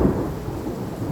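Close, loud thunder from a nearby lightning strike rolls on through a heavy rainstorm, a sustained low rumble with dense rain hiss layered over it.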